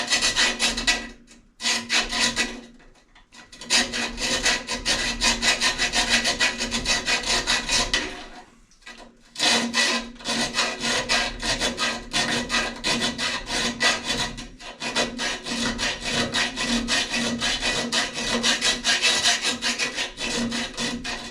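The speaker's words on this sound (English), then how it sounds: "I think if we file the corners" Steady back-and-forth strokes of a hand file rasp the corners of a metal part on a 1928 Ford Model A roadster pickup during spring lowering work, a rhythmic scraping with a few brief pauses and no talking.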